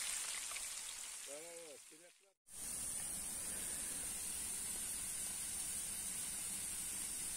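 Fish sizzling in hot oil in a pan, a dense steady crackling hiss after a short bit of speech.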